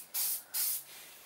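Spray paint hissing from an aerosol can in a closed garage while restyling a Yardmachine 243cc 28-inch snowblower, two close bursts of sharp hiss, each about a quarter second, with a softer hiss trailing off.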